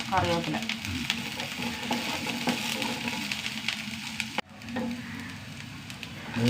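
Mustard seeds, onion and green chillies fry in a pan for a curry, giving a loud continuous sizzle with sputtering pops and a brief dip near the end before the hiss returns.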